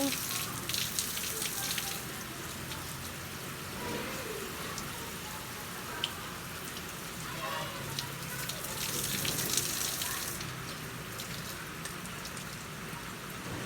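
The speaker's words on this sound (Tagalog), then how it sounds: "Shower muna ako, guys." A steady hiss of running shower water spraying continuously, fairly close, with slight shifts in the splashing.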